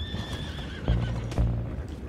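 Horses neigh and whinny in a Wild West setting from the game Red Dead Redemption 2, a drawn-out high whinny followed by two close, heavy hoof thuds or snorts, loud against a low rumbling background.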